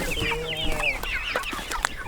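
Chickens clucking and chattering on a homestead, several birds close by making overlapping squawks and short calls over a constant low background rumble.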